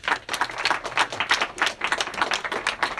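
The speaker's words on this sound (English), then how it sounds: "Please give him a round of applause." Steady applause from a debate audience at a Cambridge University society debate on meat, dense overlapping claps filling the room for a few seconds without talk.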